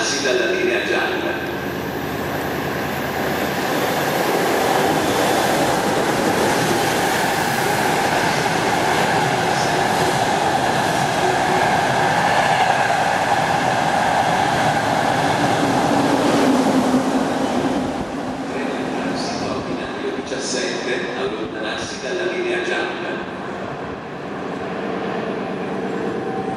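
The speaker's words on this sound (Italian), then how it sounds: "Treno in transito al binario 17, allontanarsi dalla linea gialla." A high-speed Frecciarossa train rumbles steadily through Bologna Centrale station for a long stretch, loud and close, with clanking wheels and an Italian public-address announcement over the roar.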